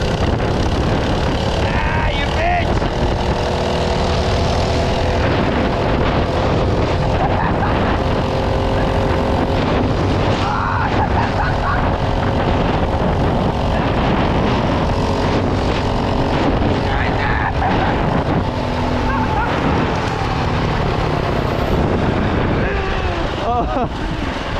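Small minibike engine buzzing loudly while being ridden, running rough with wind buffeting the microphone and occasional voices over the constant drone.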